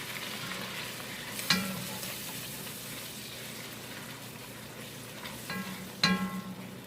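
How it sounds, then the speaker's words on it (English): Bacon jam with molasses being stirred in a hot pan, a constant sizzle broken by two louder scraping strokes of the spoon, with no talk. "So we're going to stir this around."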